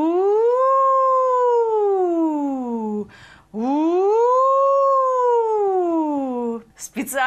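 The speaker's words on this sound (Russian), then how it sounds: "Специально для вас записываю оригинальные звуки сирены." An air raid siren, recorded loud and close, sounds two long wails that each rise and then slowly fall. A short burst of noise falls between the wails, and the clip ends in a noisy scrape.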